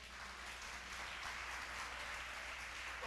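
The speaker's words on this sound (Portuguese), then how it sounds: "Você pode aplaudir Jesus?" A church congregation applauds in a continuous, even wash of clapping, somewhat distant and steady for the whole short stretch, over a low background hum.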